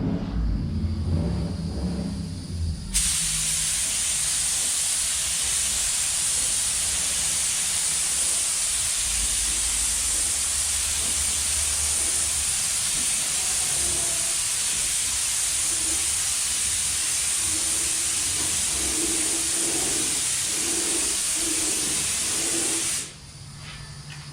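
A spray gun lays clear coat onto a car during a budget paint job, a loud steady air hiss that runs unbroken for about twenty seconds close by, then cuts off.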